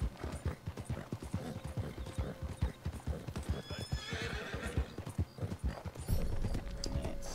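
A horse in Red Dead Redemption 2 clip-clops in a steady, close rhythm of hoofbeats, then gives a loud neigh near the end, with no talking.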